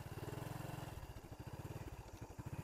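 Semi-automatic motorbike rolling slowly in fourth gear, a low, steady engine putter with a fast, even pulse that stays close and constant, with no talking.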